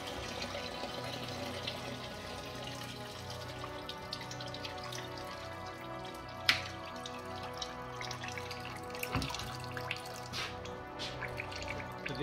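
Coolant drains from a Citroën Berlingo 1.6 HDi into a bucket underneath as a steady, fairly quiet trickle and patter that runs throughout, with one sharper drop or knock midway.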